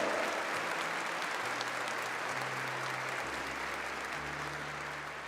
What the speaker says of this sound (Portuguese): Glória a Deus, pode aplaudir, é graça de Deus